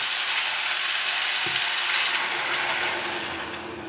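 Liquid poured into a saucepan of green beans for a Greek-style dish, a steady hiss and sizzle filling the whole stretch with a brief clink midway, fading slightly toward the end.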